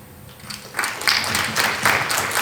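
Audience applause at a Latin American talk on climate resilience and decoloniality, a dense wash of clapping that swells after a quiet start and holds steady, fairly close and loud.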